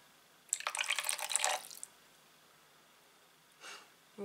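A short splash of water poured into a pan of chicken cutlets, a soft burst lasting about a second, followed by quiet and a faint second trickle.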